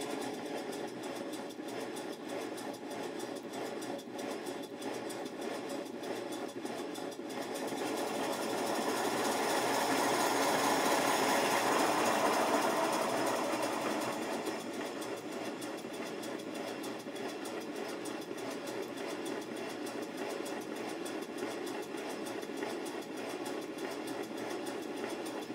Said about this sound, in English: listen to the little chuffing noises in the background